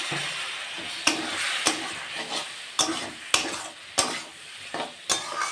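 Spice paste sautéed in a pan for a rohu fish curry with cauliflower: a low sizzle under a regular rhythm of sharp spatula scrapes against the pan, roughly every half second, up close.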